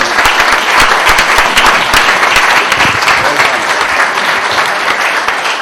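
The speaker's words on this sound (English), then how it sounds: "I think you deserve applause for it" Steady live audience applause, many people clapping densely and loudly without pause, with faint voices underneath.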